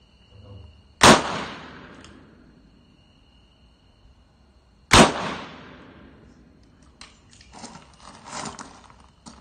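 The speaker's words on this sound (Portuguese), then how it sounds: "Primeiro tiro ogival" Two sharp, loud gunshots, a .38 round-nose lead bullet fired into eucalyptus wooden planks, about four seconds apart, each with a quick decaying crack, followed by scattered faint knocks and rustling.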